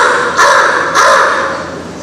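A voice imitates a crow's caw, giving two loud, harsh, nasal calls spaced about half a second apart, close to the mic and alone.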